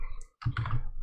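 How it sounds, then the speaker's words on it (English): Brief, close typing on a computer keyboard, with a quick flurry of soft clicking keystrokes after a short pause. "let me just finish typing"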